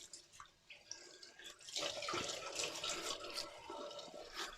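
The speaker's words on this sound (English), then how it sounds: "So we'll put on some water on the face." Water splashed by hand onto the face before a wet shave, a run of wet splashing and trickling that grows louder and busier after a quiet start, close and alone without voices.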